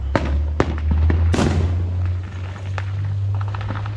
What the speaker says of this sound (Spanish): se siente como que se cimbra cuando truenan esos cohetes